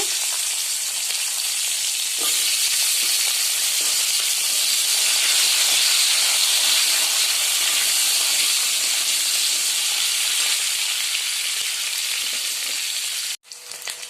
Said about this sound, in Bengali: এখন ডাঁটা আলুগুলো ছেড়ে দেব, হালকা ভেজে নেব অল্প।